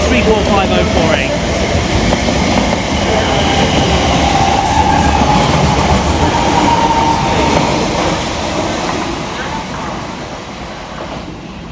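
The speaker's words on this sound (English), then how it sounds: "And now departing over on the far side, the 1045 Elizabeth Line service from Heathrow Terminal 5 through to Shenfield." Elizabeth Line unit 345048 pulls away on the far side of a Great Eastern Main Line station, a loud rolling rumble with faint wheel squeal and clatter that eases off toward the end as it departs.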